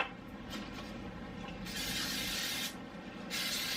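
Cooking spray hisses from an aerosol can onto the sides of a cake pan, in two long bursts separated by a short pause, close and fairly loud.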